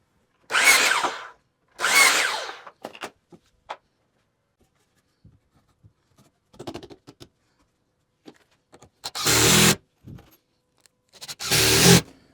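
A power drill drives 3-inch sheetrock screws into 2x4 wood framing for a train layout, giving several separate whirring bursts with quiet gaps and small clicks between them, loud and close.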